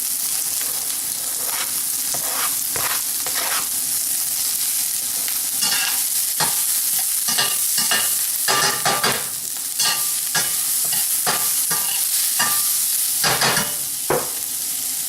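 Garlic, onions and peppers sizzle hard in a very hot skillet. A continuous loud frying hiss is broken by repeated scraping stir strokes. No one talks.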